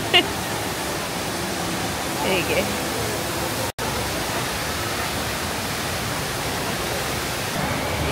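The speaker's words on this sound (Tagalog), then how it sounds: "Kamusta naman yung waterfalls?" Indoor waterfall at an airport stopover, a steady broad rushing of falling water that fills the space evenly, with a brief dropout midway and people talking faintly over it.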